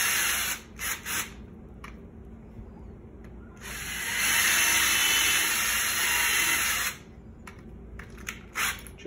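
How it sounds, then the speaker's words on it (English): A power drill with an 11/64 bit bores a pilot hole in wood for a DIY target stand, short bursts first, then a sustained whine of several seconds, then more brief spurts, close by. "change out your Phillips head for your 11/11/64 drill bit, roughly in the center to a pilot hole"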